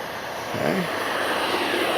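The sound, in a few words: RC F-15 twin 64mm jet model airplane taking off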